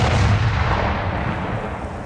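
A loud explosion captured by an action camera's built-in microphone, a heavy booming blast that dominates at once and then decays into a rumbling tail over two seconds.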